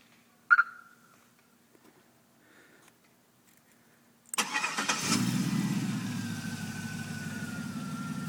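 Remote auto start of a 1998 Chevy S-10 fitted with a 5.3L Vortec V8: after a brief beep and a few seconds of quiet, the engine cranks and catches abruptly, then settles into a loud, steady rumbling idle close by.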